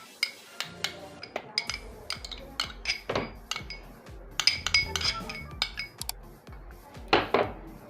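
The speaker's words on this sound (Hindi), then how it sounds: "पहले मायोनीज़ डालेंगे" Repeated light clinks of a utensil against a bowl as mayonnaise goes in for a dressing for a sweet dish, sharp taps coming every half second or so, close and clear with no talking.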